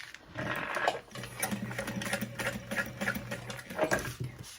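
Sewing machine stitching a fabric handbag with foam-backed panels, a steady mechanical whir and rapid needle patter running through most of the stretch with short pauses, close and moderately loud.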